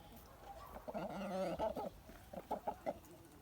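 A Bielefelder rooster clucks in short, loud bursts, with a run of quick repeated clucks toward the end, close by over faint farmyard background.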